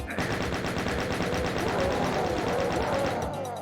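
Rapid sustained chain gun fire in the video game Doom II, a dense, loud, evenly pulsing stream of shots that runs almost unbroken before cutting off at the end.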